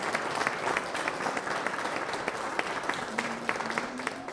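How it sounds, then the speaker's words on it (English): Applause from a church congregation honoring volunteers with a homeless organization, steady clapping at moderate volume, with a faint voice murmuring underneath. "Applause."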